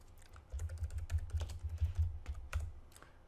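Typing on a computer keyboard while entering a chart timeframe in NinjaTrader trading software, a quick run of close, soft key clicks with a low background hum and no talking.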